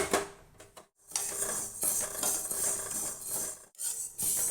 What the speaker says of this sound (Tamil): பாசிப்பருப்பை வாசம் வர வர வறுத்துக்கிறேன்